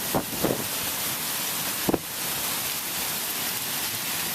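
Small hailstones, roughly half a penny across, rattle down in a severe thunderstorm in Chicago as an unbroken hiss, broken by a few short, louder bursts of gusting or close impacts early on and near two seconds.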